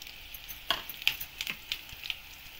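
Coriander seeds fry in a hot pan with soft, crackly sizzling, a handful of sharp pops standing out over a faint, steady hiss.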